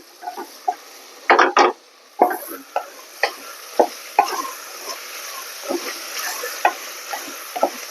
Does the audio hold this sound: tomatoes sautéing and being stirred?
yes